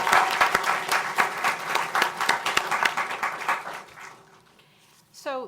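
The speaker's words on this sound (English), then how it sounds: "I want us to give Marcella a really warm hand of applause for her excellent presentation." An audience claps warmly for a presenter at a workforce conference session, a burst of distinct close hand claps that fades out after about four seconds, followed by a brief sound at the very end.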